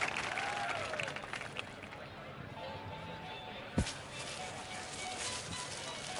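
Crowd applause in the video game Sherlock Holmes: The Devil's Daughter, a steady wash of clapping and murmur that carries on for several seconds, with a sharp thud partway through and a small swell at the end.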